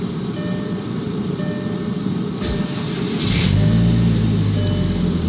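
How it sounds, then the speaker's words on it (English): A 2004.5 Volkswagen Jetta GLI with a 1.8T engine cold starts after sitting two weeks, a brief crank followed by the engine catching and settling into a steady, low idle rumble. "let's start it up real quick. This is a cold start."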